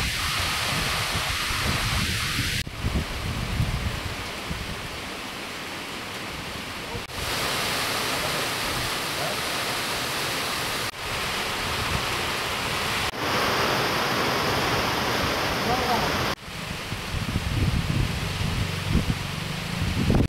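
Heavy rain pours down during a statewide downpour that breaks intense summer heat, a dense and steady hiss with deep rumbles of thunder rolling underneath, especially toward the end.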